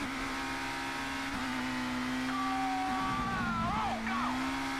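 Race cars in the ToCA Race Driver video game sweep past during a ToCA Tour event, with a steady loud engine drone that shifts pitch as they overtake, plus brief whining tire squeals near the end.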